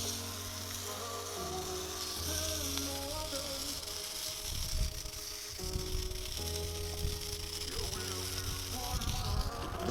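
Steaks sizzle on a hot plate for a steak sandwich, a steady close crackling hiss that runs throughout with some low tonal background underneath.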